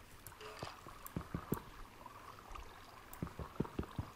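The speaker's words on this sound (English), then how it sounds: "the water flowing is coming straight ahead." Water flows through a cave in the Minecraft video game: a faint, steady rushing trickle, with soft clicking steps scattered over it.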